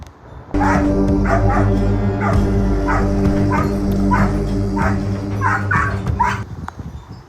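A frightened dog in a training session barks in a rapid repeated series of sharp yips and whimpers over a constant low mechanical hum, close and loud throughout.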